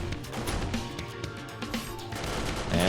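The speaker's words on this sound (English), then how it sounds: "He fires the shot immediately to draw the zombies in towards him." A gunshot in the zombie survival game 7 Days to Die, followed by dense, rumbling game noise and clattering impacts that swell toward the end.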